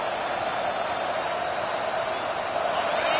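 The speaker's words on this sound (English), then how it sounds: "Listen to this crowd just shaking the girders of this place, trying to help their defense" A stadium crowd at a football game roars continuously to rally the defense, a dense sustained wall of cheering that swells slightly toward the end, with no distinct voices standing out.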